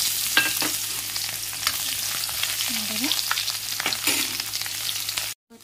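Dried chilli and chopped onion fry in hot oil in a wok, giving a steady, close sizzle with occasional louder crackles and spatters. There is no talking.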